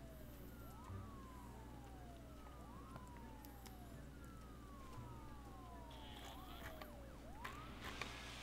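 Several ambulance sirens wail in a busy city-building game, their sweeping tones rising and falling repeatedly over a steady low ambient hum, overlapping and moderately loud throughout.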